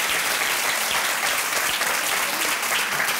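Dense, steady audience applause fills the whole stretch at a televised Saturday-night dance show, loud and continuous with no voices over it.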